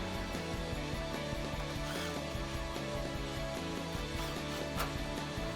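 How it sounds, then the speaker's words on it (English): Socket wrench ratcheting as it tightens 10mm bolts on a Toyota Tacoma headlight housing, a quiet steady run of fine clicks with a faint hum underneath. "Grab your 10 socket and tighten them down."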